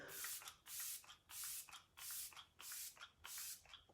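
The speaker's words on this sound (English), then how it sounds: "I'm gonna finish my look with Let It Set Refreshing Spray." Arbonne Let It Set Refreshing Spray is misted onto a face in about seven soft, evenly spaced hissing bursts, close but quiet, with no talking.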